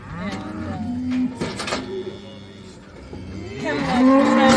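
Cattle moo loudly and repeatedly at a ranch branding on the Hashknife Ranch, long drawn-out lowing calls overlapping one another close by amid general herd noise.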